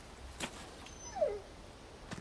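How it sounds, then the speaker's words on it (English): Dog whimpering in the video game Resident Evil 4: a single faint, high, falling whine between a few soft thumps, quiet and brief with no talk. "Oh, it's a dog!"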